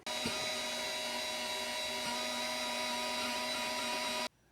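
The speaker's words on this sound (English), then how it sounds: "I'm just using a burr bit on a die grinder." A die grinder with a burr bit buffing the rubber inside a punctured tire, a steady high-pitched whine running continuously at moderate level, then cutting off abruptly near the end.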